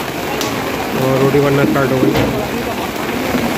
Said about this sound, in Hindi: तो बारिश अभी तक हो रही है